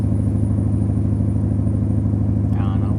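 Loud truck engine heard from inside the cab in American Truck Simulator: a close, steady low rumble with an even pulsing throb throughout, and a brief faint higher tone near the end.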